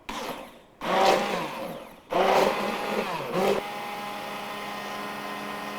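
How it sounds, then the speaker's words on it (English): A hand blender on high whirs in three close bursts, its motor pitch shifting as it churns coconut milk, then cuts to a quieter steady hum. "I'm just gonna stick my blender in here on high"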